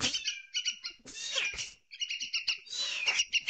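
A pet baby bird chirps and tweets in rapid bursts of high calls, close up, with short pauses between the clusters and no voices.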